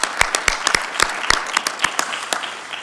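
A small room at a United Nations town hall in the ECOSOC Chamber gives sparse, scattered applause, with individual sharp hand claps standing out distinctly in an irregular patter.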